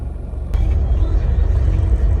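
Steady low rumble from inside a car being driven on a short trip, with road and engine noise close and continuous, and a brief click near the start.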